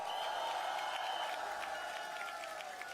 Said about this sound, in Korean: 여러분 힘내라고 박수 한번 부탁드립니다